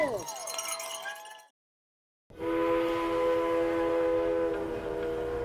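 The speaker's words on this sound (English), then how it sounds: "Train takes off, and so do we." A tourist steam train on the Durango to Silverton line whistles loudly as it pulls away, a sustained steady tone after a brief pause, with rail noise beneath.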